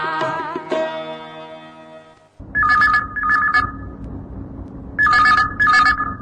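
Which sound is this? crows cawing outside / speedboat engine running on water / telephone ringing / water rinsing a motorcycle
telephone ringing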